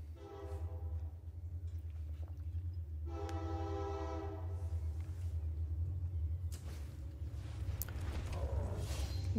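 A loud train horn sound effect blares over a steady low rumble during a Magic: The Gathering draft game, sounding in two long harmonic blasts, with the rumble swelling toward the end.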